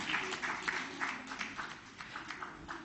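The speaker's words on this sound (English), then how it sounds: "Ladies and gentlemen, a round of applause for Tata Projects Limited" Faint audience applause at a safety convention award presentation for Tata Projects Limited, with clapping heard as soft, uneven bursts from a hall.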